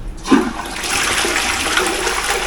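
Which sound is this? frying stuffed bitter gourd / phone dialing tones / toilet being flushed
toilet being flushed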